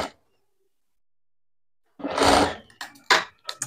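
After a quiet pause, a sewing machine stitching blouse lining fabric whirs in one sustained run followed by several short, stop-start bursts, close and fairly loud.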